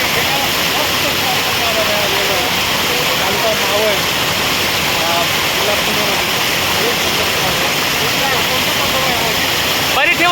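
Waterfall at Paritewadi in the Sahyadri hills, a loud, steady roar of falling water filling the whole stretch without pause.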